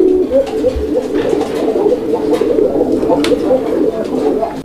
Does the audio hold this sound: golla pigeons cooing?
yes